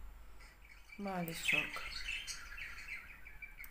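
Pet bird kept indoors gives a quick run of chirps followed by a sharp squawk, close and clear, while someone speaks softly around it.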